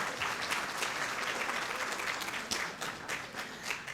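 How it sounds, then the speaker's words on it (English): An audience at a volunteer recognition luncheon claps together in sustained applause, a dense, even patter of many hands that holds steady for several seconds and is heard from a moderate distance. "So please give her a round of applause in her absence."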